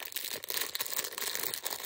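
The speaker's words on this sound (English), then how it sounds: "Why did they put these in a plastic bag?" A plastic bag crinkles and rustles as it is handled, producing a continuous, close, crackling stream of crumpling noise with brief sharper crunches and no speech.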